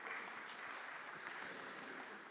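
Steady applause from a conference audience at a talk on ageing and society fills the room as a dense, even wash of clapping, moderately distant and unbroken throughout.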